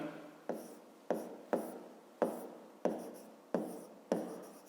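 Handwriting on paper during a fifth-grade maths exercise, noting down the area of a grid square: seven crisp pen strokes at a steady rhythm, each a sharp scratch that trails off, close and quiet with no talk.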